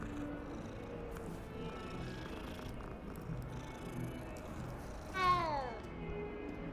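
A cat in the video game Hogwarts Legacy gives a single short meow over a steady, muffled game background, fairly faint and alone with no talk.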